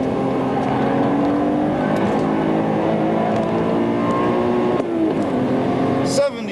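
BMW M5 engine revving hard on a Nurburgring lap, with a loud continuous drone rising and falling through gear changes under a driver's talking, heard from the cabin.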